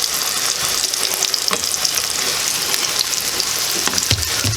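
Hoecakes of corn pone fry in a pan with a loud, steady sizzle and crackle of hot oil, close up and unbroken, with no talking.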